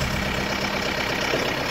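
A tractor engine idles steadily while the front loader is raised, a close, even mechanical rumble with no talk.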